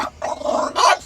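A dog growls and gives a short bark up close, a gruff rumbling sound with a sharper burst near the end, heard inside a truck cab.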